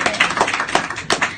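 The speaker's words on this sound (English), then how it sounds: "Give him a round of applause." A live audience at a comedy show in London claps in a short burst, the hand claps loud and fairly close, uneven and loosely spaced, with no talking over them.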